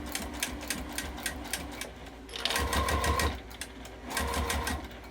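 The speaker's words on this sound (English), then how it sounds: "now I'm just going to sew this right along the edge" Sewing machine stitching along the edge of a fat-quarter fabric wallet, fast rhythmic needle clatter running close and continuous, with two short bursts where the motor speeds up.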